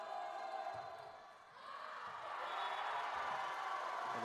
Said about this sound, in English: the crowd getting into it here at Garth Pleasant Arena